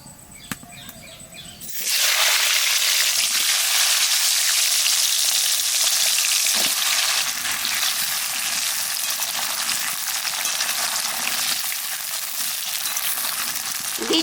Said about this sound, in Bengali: তেলের মধ্যে দিয়ে দেবো পাঁচ ফোড়নের শুকনো লঙ্কা এইবার জলপাই দিয়ে দেবো